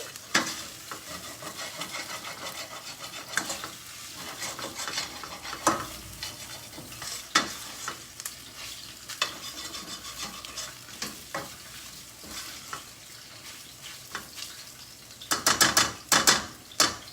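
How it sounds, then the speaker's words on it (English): Tomato paste stirred in a frying pan as part of a vegetable dish: a continuous low sizzle with repeated scraping strokes of the utensil, building to a louder flurry near the end. "Make sure this tomato paste doesn't stick to the pan, so keep stirring properly."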